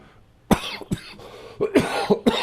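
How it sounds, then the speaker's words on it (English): Several harsh coughs in quick succession, close and fairly loud, with brief pauses between bursts and no talking. "there goes my coronavirus cough again"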